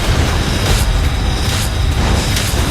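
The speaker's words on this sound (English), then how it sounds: "You destroyed a turret." An enemy turret being destroyed in League of Legends, a loud sustained rumbling crumble with repeated booming thuds throughout.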